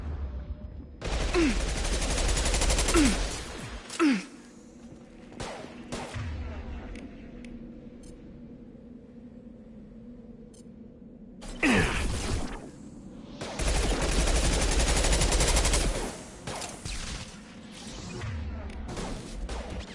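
Loud bursts of rapid gunfire crackle in the video game Mass Effect 2, two long volleys separated by quieter stretches with scattered shots and impacts.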